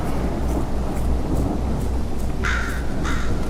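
Crow cawing in the horror video game Exanimum, two harsh caws late in the clip over a steady roaring bed of rain and rumbling thunder.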